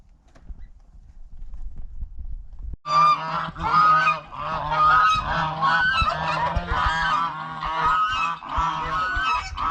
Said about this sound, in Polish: Wiem, że gęsi trochę przeszkadzają, bo się denerwują, że do nich wszedłem.